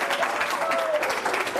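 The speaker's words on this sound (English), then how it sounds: "Give her a big round of applause." Steady clapping from a crowd honoring a teacher on a TV news broadcast, sustained and fairly loud throughout, with no voices over it.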